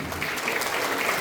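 An audience applauds together for about a second, a dense, steady wash of clapping hands with no voices breaking through.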